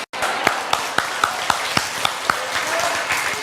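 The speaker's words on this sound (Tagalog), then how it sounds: "Yung palakpak nyo, parang na-insulto ko ng konti." A church congregation applauds during a sermon, a steady wash of clapping with regular, rhythmic accented claps throughout.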